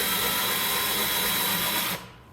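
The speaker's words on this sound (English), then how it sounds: "So I just set up my drill press, set my depth to the same height" Drill press boring holes for threaded inserts in wood for a dining table, a steady loud whirring drone holding for about two seconds before winding down abruptly.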